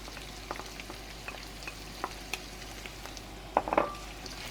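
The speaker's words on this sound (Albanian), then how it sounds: "Si fillim hedhim qepën." Onion hits hot meat in a pan for Albanian chicken orzo and sizzles with a soft, continuous frying hiss dotted with small pops, while a few louder stirring crackles bunch together near the end.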